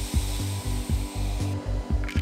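A CNC machine cutting box-joint pins in wood on a nesting tray, a steady high whine from the spindle with regular rhythmic pulses as the bit passes through the wood, close and loud.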